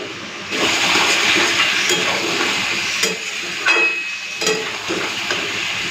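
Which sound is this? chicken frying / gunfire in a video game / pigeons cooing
chicken frying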